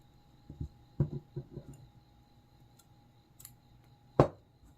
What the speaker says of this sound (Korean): 이 실은 잘라 버릴게요